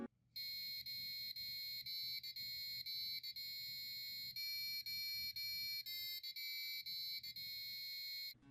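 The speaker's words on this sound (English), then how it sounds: "your Arduino should begin to play music" Piezo buzzer driven by an Arduino plays a steady electronic melody of shrill, bright tones that switch pitch in quick succession, loud and continuous with no voices.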